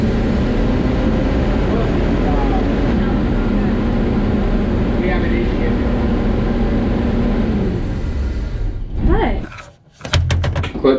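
A 1965 Clark Cortez motorhome engine running after a carburetor rebuild, a steady loud low drone that holds for several seconds, then sputters and drops off near the end before a brief knock and renewed rumble.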